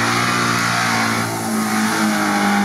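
A UAZ off-road vehicle on low-ratio gearing revs hard while climbing an off-road obstacle, its engine droning loud and steady with a sustained strained roar and a slight dip in pitch midway.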